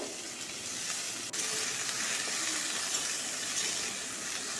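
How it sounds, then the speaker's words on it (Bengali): Boiled, drained figs fry in hot oil in a pan, giving a steady, even sizzle that continues throughout, with one faint click partway through. "ডুমুরগুলোকে এরকম করে ভেজে নেব"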